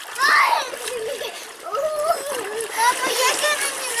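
A child splashes water in a warm outdoor bath on a hot summer day, with bursts of splashing and gurgling mixed with a voice and adult talk throughout.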